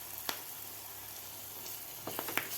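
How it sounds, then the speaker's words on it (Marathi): Crushed chili thecha and curry leaves with a pinch of asafoetida sauté in a pan, making a soft, quiet sizzle with a few sharp stirring clicks near the end. "1 मिनिटभर आपल्याला हे व्यवस्थित परतून घ्यायचं आहे"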